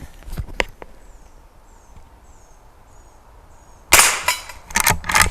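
A Henry Frontier Long Barrel rifle fires a single sharp, loud shot at an outdoor range, followed by a brief echoing tail, after quiet ambience with a few faint clicks and chirps.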